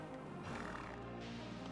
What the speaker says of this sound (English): We could hear a horse.